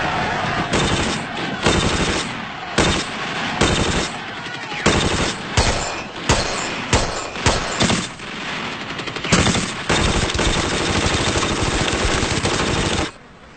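Sustained machine gun fire in a World War battle scene, dense rattling bursts with brief gaps, loud and continuous throughout without speech.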